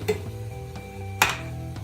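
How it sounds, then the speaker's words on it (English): Mushrooms, corn and beef stirred together in a pan, with a few soft scraping strokes and light clinks of a utensil against the pan over a faint sizzle, close by and brief. "now you dump the mushrooms with the beef, and the corn into the beef as well. Now we're going to stir that up."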